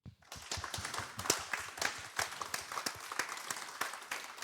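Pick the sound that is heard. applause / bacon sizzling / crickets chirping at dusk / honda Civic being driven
applause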